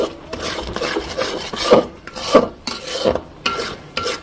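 A spoon scrapes rhythmically through thick masala for desi raja duck curry in a pan, giving close, rasping strokes about twice a second over a faint sizzle.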